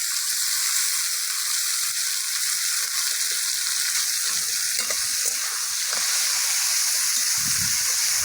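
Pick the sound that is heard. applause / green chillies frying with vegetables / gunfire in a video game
green chillies frying with vegetables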